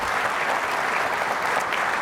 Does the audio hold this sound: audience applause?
yes